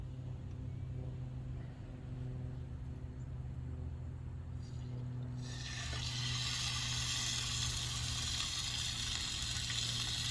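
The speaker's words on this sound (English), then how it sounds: "let's go ahead and drop steak number 1 in" A steak is dropped into a hot pan, and a loud, broad sizzle bursts in halfway through and keeps going steadily over a low background rumble.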